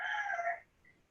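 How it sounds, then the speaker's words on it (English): A rooster crows once, a faint distant call that ends abruptly within about half a second, with no talking. "Somebody has a rooster."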